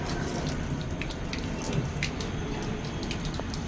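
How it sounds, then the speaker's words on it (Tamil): Water runs steadily from a tap on a rooftop garden to water plants, a continuous even splashing hiss with faint drips on top, alone and unchanging. "செடிக்கு தண்ணி ஊற்று, தரைக்கு தண்ணி ஊற்றினுங்கிறா"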